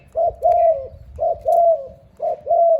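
A dove coos in three deep, rhythmic phrases, each a pair of hollow notes, close and clear against a faint background.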